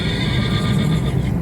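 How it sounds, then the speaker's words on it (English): A horse whinnies at length at a race, held in a small makeshift enclosure, sounding loud and close with no speech over it. "You got horses just kind of hanging out in these tiny makeshift enclosures."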